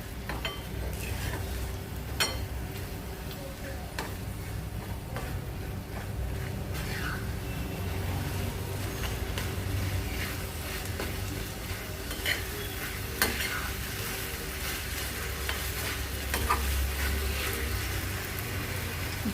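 Ginger and garlic sauté in a pan for a Maharashtrian shevla bhaji with masoor. A low, steady sizzle runs the whole time while a utensil stirs and scrapes with occasional clinks, close and moderately loud with no voices.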